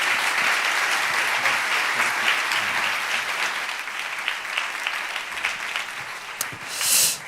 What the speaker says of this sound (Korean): 우리 존니 대표님께 우리 감사의 박수 다시 한번 좀 드렸으면 좋겠습니다.